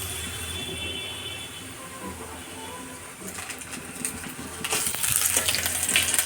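Fish head muri ghonto cooking in a home kitchen, with a steady sizzle and frying hiss that grows louder and busier toward the end, no voices present.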